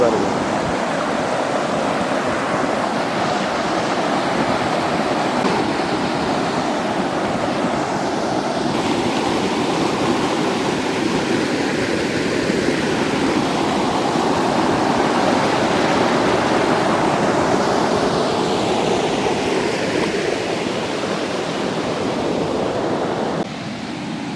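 Water rushing steadily through a dam spillway in Wilpattu sanctuary, Sri Lanka, a loud continuous roar that stays constant throughout with no pauses.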